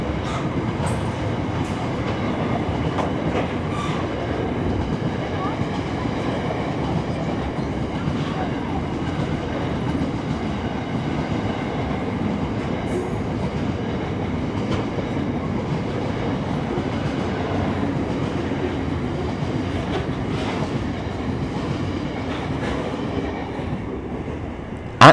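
Steam locomotive 3801 rolls into Maitland Station during the Hunter Valley Steamfest, a steady broadband rumble of rail noise with faint clanking, holding at an even loudness throughout with no sharp whistle or chuff standing out.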